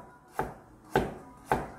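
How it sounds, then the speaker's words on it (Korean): A knife cutting vegetables into thin julienne strips on a cutting board, three crisp evenly spaced thuds about half a second apart, close and alone. "그리고 채 썰어줍니다"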